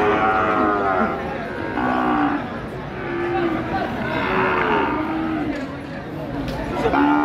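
Cattle moo in long, low calls at a cattle market in Jatirogo, several drawn-out bellows repeating near the microphone over steady background chatter and someone talking.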